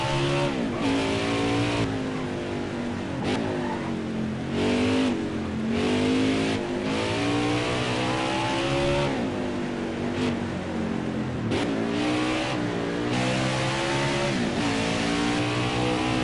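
NASCAR Xfinity Series race cars at the Brickyard in Indianapolis roar continuously, engines revving up and dropping with gear shifts in repeated waves, loud and close, with occasional tire squeal.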